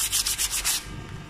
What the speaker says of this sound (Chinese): 它这里还有一些毛刺，我们可以用砂纸来把它搓一下